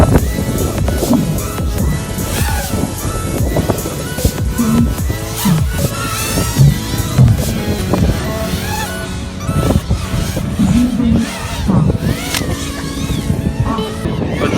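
Racing drones launching together at the start of a drone race in Germany, a dense, continuous buzzing whine of many small rotors that rises and sweeps for about fifteen seconds amid outdoor wind noise.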